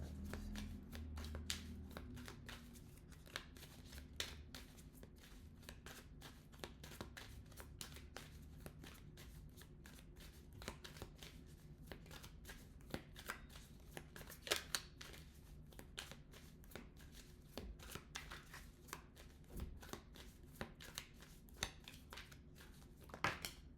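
Tarot cards are shuffled by hand in a quiet room, a soft, continuous patter of fine crisp riffling clicks lasting the whole stretch, faint and close.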